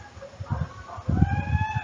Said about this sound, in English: My pet is a hen.